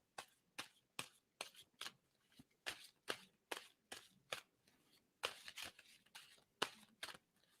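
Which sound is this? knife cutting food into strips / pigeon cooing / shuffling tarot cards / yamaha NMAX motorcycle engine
shuffling tarot cards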